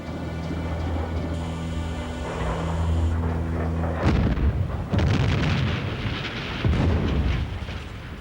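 A deep rumbling blast of a sabotage explosion at a train station during World War II erupts after a low droning hum, followed by rolling, crackling booms that fade and swell again.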